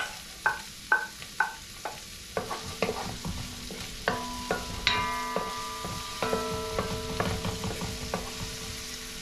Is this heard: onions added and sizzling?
yes